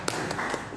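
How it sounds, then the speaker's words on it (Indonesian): Audience at a school vocational competition award ceremony clapping briefly, a few distinct claps rising from a dense, steady room din, with no talk. "Tepuk tangan untuk kita semuanya."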